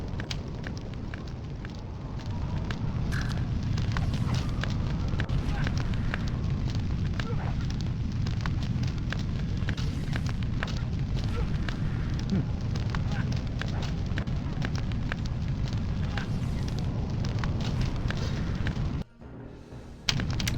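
A fire spell burns in the Summoner game's Iona Catacombs, a loud, continuous crackling roar that holds for most of the stretch before briefly dropping out near the end.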